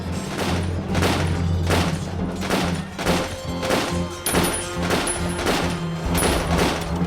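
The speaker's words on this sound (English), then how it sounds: "Gordon had a machine gun on the top of the palace, a Gardner machine gun, rather like a Gatling." A Gardner machine gun, similar to a Gatling, fires in a steady rhythmic series of heavy thuds, roughly one or two per second, loud and dense as a documentary sound effect, with no talk.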